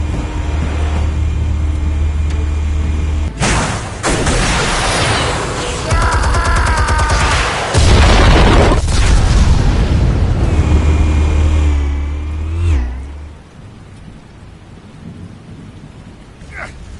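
Heavy detonations from armed explosives in the Batman Telltale Series game: loud, broad rumbling booms with crashing debris fill most of the stretch, then fade into a quieter, settling tail near the end.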